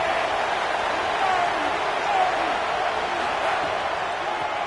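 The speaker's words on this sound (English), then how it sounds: "This crowd ready to make its presence known." A broad, steady stadium crowd roar in an NCAA college football video game, a continuous wash of cheering noise holding at a constant loud level throughout.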